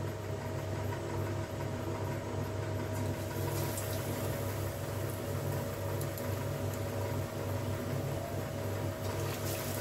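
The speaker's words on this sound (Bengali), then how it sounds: "তেলটা এখানে গরম হয়ে গেছে, এবার আমি এক একে ভেজে নেব" Paneer pakoras in batter fry in hot refined oil with a dense, steady, close crackling sizzle that holds evenly throughout, without any talking.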